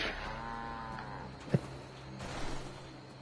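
A Brahmin cow in Fallout 76 lets out a drawn-out moo at the start, followed by a quieter low bellow and a brief sharp thump against faint game ambience.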